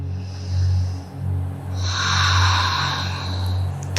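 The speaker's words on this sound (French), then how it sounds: "Conscience du son de ta respiration, même si c'est très subtil." Slow ocean-like yoga breathing through the nose with the mouth closed: a soft, steady hiss that rises on each long inhale and exhale, close and alone without talk.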